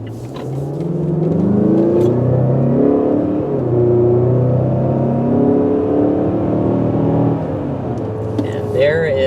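A 2020 Mazda CX-5 Signature accelerates hard to 60 mph, its engine note climbing through rising, shifting tones under a steady cabin rumble, loud and close from inside, easing off near the end.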